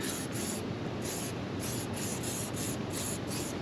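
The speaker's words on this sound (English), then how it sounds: "Spray comes out nice and smooth." Bursts of detailing spray hiss onto a Harley engine in quick repeated pumps, each short spray close and steady, laid on thick and wet over a constant background wash.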